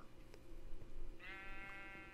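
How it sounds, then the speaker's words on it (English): Sheep in the Minecraft video game bleat, with one clear, wavering bleat rising out of low game ambience midway and holding to the end; no one speaks. "There's the other sheep."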